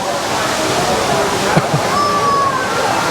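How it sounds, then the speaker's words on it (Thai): An indoor waterfall in a shopping mall pours as a steady, loud wash of falling water that fills the whole moment, with faint mall ambience and a brief tone sweeping through. "มีน้ำตกน้ำตกนะ"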